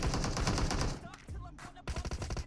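Rapid bursts of gunfire in PUBG Mobile, fast repeated shots stopping briefly and then resuming, loud and close.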